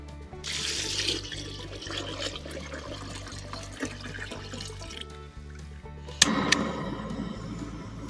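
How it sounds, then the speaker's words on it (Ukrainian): Water runs steadily into a cauldron over soaked beans for an outdoor Ukrainian borscht, a continuous pouring wash with a low rhythmic hum beneath and a sharper splash near the end. "Тому заливаємо їх водою"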